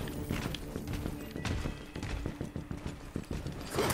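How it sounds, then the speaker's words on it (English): Heavy, thudding monster footsteps in the video game Evil West, a steady series of deep, meaty impacts plodding along under a low rumbling game ambience. "I hear the big, meaty footsteps"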